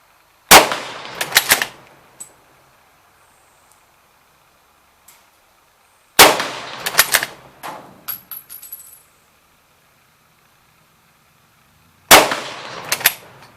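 Sharp, loud rifle shots from a Czech Vz24 Mauser, three separate bursts of firing spaced several seconds apart, each followed by faint bolt clicks and echo, with near silence between them.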